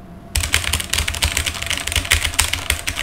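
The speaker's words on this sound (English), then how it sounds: "That is the sound of my new sweet mechanical keyboard." Fast typing on a new mechanical keyboard, with crisp, close clacks in quick irregular bursts that start abruptly after a short quiet moment and carry on steadily with no talk.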